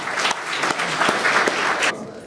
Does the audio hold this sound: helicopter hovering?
no